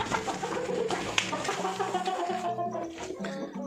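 Several desi chickens and roosters on a poultry farm cluck and chatter close by in a busy, overlapping stream of short calls, with a brief sharp squawk partway through.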